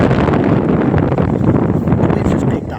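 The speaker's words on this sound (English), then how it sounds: "The wind's just picked up now" Heavy wind buffets the microphone outdoors in Newcastle, NSW, a loud, continuous rumbling roar throughout with no pause.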